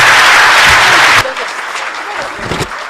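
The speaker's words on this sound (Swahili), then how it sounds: "Makofi tafadhalini." Loud, close audience applause at a Pharmaceutical Society of Kenya gathering, a dense burst of clapping that cuts off after about a second, then gives way to murmuring and voices.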